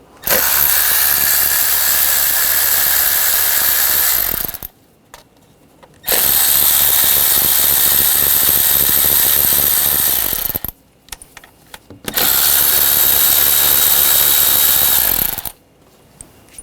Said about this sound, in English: use an 8mm socket. Take these studs and bolts out.